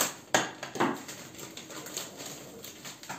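Construction work in the building above a home kitchen where tulumba dessert is being made gives a few faint, sharp hammer-like knocks and clatters, two louder ones near the start, over a low background hum.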